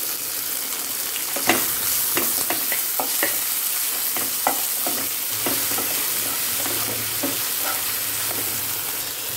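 Onion, garlic, ginger and chili paste frying in homemade ghee in a pan for egg curry, a constant hiss of sizzling with repeated scraping stirs of a spatula, close and without talk.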